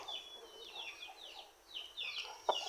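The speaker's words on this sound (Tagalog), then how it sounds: "Itong manok ko." A pet chicken gives a few faint, quick clucks and chirps in a quiet spot, with soft gaps between the calls.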